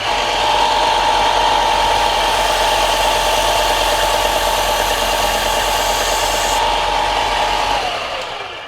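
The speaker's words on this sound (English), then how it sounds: "We're going to lay our block on, or our cleaning stick, and just gradually pull it across, and that'll clean all that rubbish out of the grit." A Klingspor abrasive cleaning stick is pressed against a running sanding belt, giving a loud, steady, coarse roar with a grinding rasp that holds for about eight seconds before winding down at the end.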